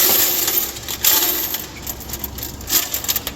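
A cascade of 50-cent coins pours out of a coin-operated foosball table, jingling and clattering continuously in a loud metallic rush with no voices.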